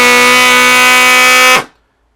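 A CARFKA 150 dB train horn kit for trucks, boats and cars blares one long, loud, steady tonal blast lasting about a second and a half, then stops sharply with nothing after it.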